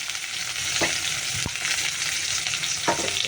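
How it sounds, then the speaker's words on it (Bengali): Garlic, onion and black cumin fry in hot oil with a close, continuous sizzle, punctuated by a few sharp knocks and scrapes of a spoon stirring in the pan. "এবার এটাকে ভালো করে নাড়ব নেড়ে ছেড়ে এর মধ্যে শাকটাকে দেব আর রসুনটাকে ভাজা ভাজা করে নিয়েছি"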